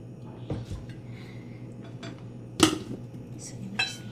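Banana bread batter mixed in a bowl with a spoon: soft scraping strokes broken by a few sharp clinks of metal against the bowl, close and fairly quiet, with no talk.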